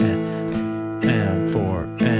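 Acoustic guitar plays an open A bass note on the fifth string, then plucks two higher strings in a steady eighth-note rhythm. The notes ring close and sustained, with fresh attacks roughly every half second.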